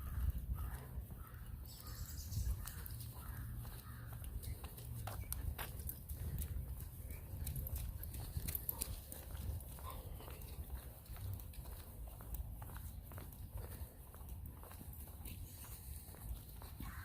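Horses in a field heard from a distance, with faint hoof clops and shuffling steps over a steady outdoor rumble, joined by occasional dog or bird calls.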